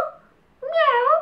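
A cat gives a single drawn-out meow near the end, loud and close, following a brief quieter vocal sound at the start.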